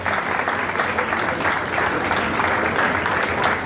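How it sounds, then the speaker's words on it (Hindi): Applause from the audience at a book launch event, dense continuous clapping that holds steady and loud for the whole stretch, with faint crowd murmur beneath. "लोगों से अनुरोध है कि तालियां बजा के इनका स्वागत करें"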